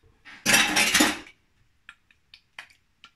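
A skinny spatula scrapes briskly around the inside of a jug for about a second, followed by several light taps and clinks against the container.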